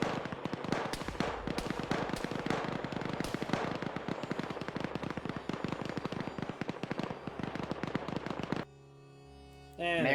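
Dense, rapid gunfire from an Arma 3 battle, overlapping shots and bursts crackling continuously for about eight seconds before cutting to a quiet lull, then another sound swells in at the end.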